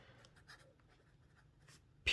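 A Cross Peerless 125 fine-nib fountain pen filled with Colorverse Dark Energy ink scratches out an ink swatch on notebook paper in quick, faint, close strokes, ending in a sudden louder knock.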